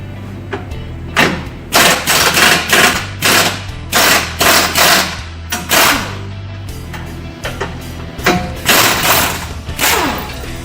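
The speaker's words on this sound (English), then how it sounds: "An air gun, but you can use an impact wrench or just a regular wrench." An air gun rattles in repeated short bursts while removing the factory bolts from a Jeep skid plate, about a dozen loud hammering pulses close up with brief gaps between them.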